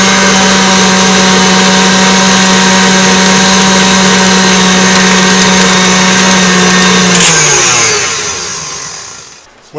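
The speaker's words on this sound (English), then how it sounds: "Just a little more mixing." An electric mixer or blender whirs steadily while blending keto mousse with cream cheese, holding a constant motorized drone before spinning down and stopping near the end.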